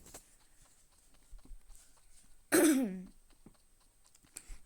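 A single loud, hoarse cough bursts out close by, against quiet background clicks and faint tapping.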